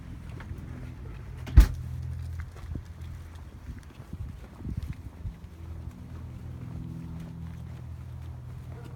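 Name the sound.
door being shut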